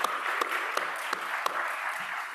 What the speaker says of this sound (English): So another round of applause for them,